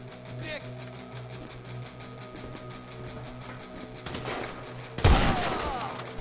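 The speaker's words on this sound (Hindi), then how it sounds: "हाँ भाई साहब, किधर से गोली मार रहे हैं आप?" Gunfire in the video game GTA 5 at Fort Zancudo, an army base, comes as a few sharp shots near the end, with the final blast loudest, over steady engine-like game noise while someone talks throughout.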